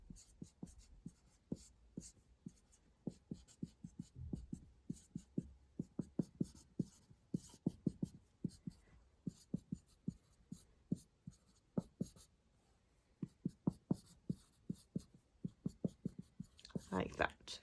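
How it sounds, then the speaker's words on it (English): Chemical equation for an amine synthesis being written out by hand, a steady run of soft, close scratchy pen strokes in quick irregular bursts with brief pauses, alone with no talking. "so I'll just write that out."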